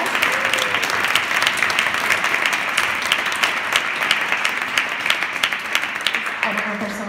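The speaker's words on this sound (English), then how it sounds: "let's give those two ladies a round of applause." An indoor audience applauds steadily for two volunteers at a chapter meeting, a sustained round of clapping that fades slightly toward the end, with a voice briefly heard.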